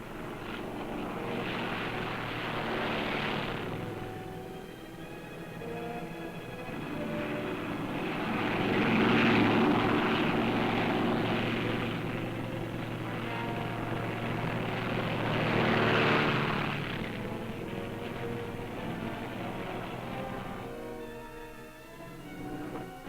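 Rocket-armed U.S. Navy carrier propeller planes of the Korean War fly over in a continuous droning roar that swells and fades three times as aircraft pass, with no voices.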